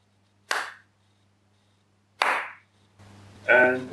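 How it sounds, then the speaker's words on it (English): Two sharp, isolated hand claps ring out in a quiet lab beside a Michelson interferometer, each a crisp broadband burst about a second and a half apart, followed by a person starting to speak. "So we can just clap."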